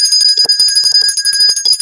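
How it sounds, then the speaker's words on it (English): A small bell used as a comedic levity bell on a talk show, rung rapidly and repeatedly up close, giving bright, sustained metallic ringing that carries through the whole stretch with no talking. "I need the levity bell"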